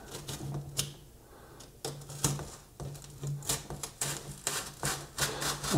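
A second, deeper cutting pass with a hand blade through a hex hive craft paint storage organizer, giving faint, irregular scraping and clicking strokes in a quiet room.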